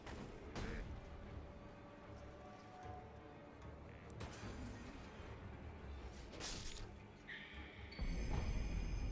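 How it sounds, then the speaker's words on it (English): Firecrackers go off in the video game Sekiro as a few scattered sharp cracks and bursts over a dense, noisy game background, followed by a louder swell near the end. "Ooh, firecrackers."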